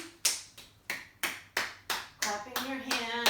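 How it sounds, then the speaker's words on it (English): Steady rhythmic hand claps and taps on the body during a yoga session, about three per second, close and sharp, with a voice humming or speaking faintly under the later strikes. "Clapping your hand."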